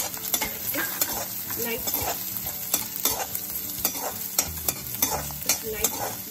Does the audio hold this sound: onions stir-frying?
yes